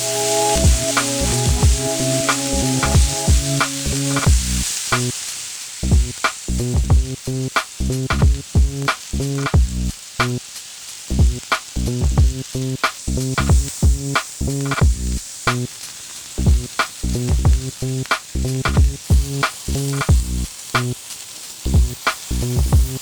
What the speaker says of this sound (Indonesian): Dan untuk daging irisnya, kita masak aja di wajan kayak gini.